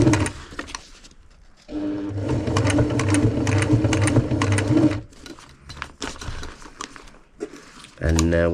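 A sewing machine stitches a repair seam on a Panacea 2 tent, running in sustained bursts, stopping, reversing and then going back over the seam, with a loud, steady mechanical whirr and short pauses between runs.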